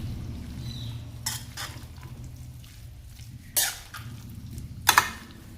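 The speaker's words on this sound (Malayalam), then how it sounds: "എല്ലാം കൂടി ഒന്ന് മിക്സ് ചെയ്യാം." A spoon stirs jackfruit avial in a pot: soft scraping and shuffling of the thick mixture, broken by a few sharp metallic clinks of the utensil against the pot, close and fairly quiet.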